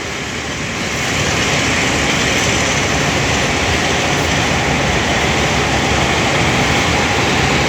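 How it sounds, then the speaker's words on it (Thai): A heavy, continuous rumble from a train hauled by an Alsthom locomotive departing Don Mueang station, building over the first second and then holding steady as it gathers speed. "ขณะนี้ก็ได้ออกจากสถานีรถไฟดอนเมือง"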